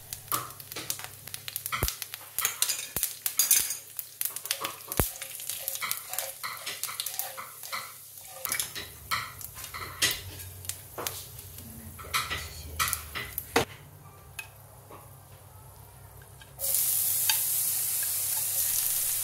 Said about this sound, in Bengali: আমি এখন পাঁচফোড়ন প্রথমে দিয়ে ভেজে নেব, তারপরে আস্তে আস্তে সব উপকরণগুলো দিয়ে দেব।